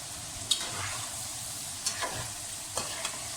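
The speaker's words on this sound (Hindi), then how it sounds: "बस अब इसको हम जो है हाई फ्लेम कर देंगे और उसके बाद हम इसको फ्राई करेंगे।" Potato fries sizzle loudly in hot oil over a high flame, a steady close frying hiss with a few scraping stirs at intervals and no talk.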